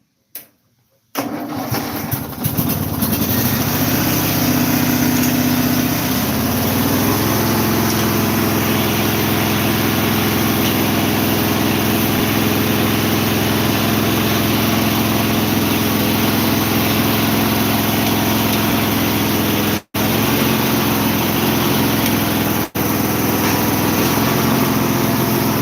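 A car engine cranks and catches, then runs loud and close at a steady, even drone, with a brief cut-out near the end.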